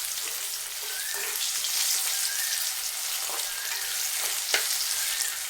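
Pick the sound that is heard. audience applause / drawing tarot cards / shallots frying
shallots frying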